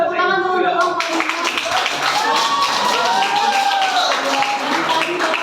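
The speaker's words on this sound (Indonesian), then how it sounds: "tepuk tangan dulu untuk kelompok 5" A school class of eighth graders clapping their hands for a student group, a brief burst of scattered claps mixed with voices and chatter in the classroom.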